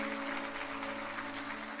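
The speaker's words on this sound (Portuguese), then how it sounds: "Aplauda a presença de Deus." A church congregation applauds in a steady, dense wash of clapping, with a sustained tonal hum from music or amplification running underneath throughout.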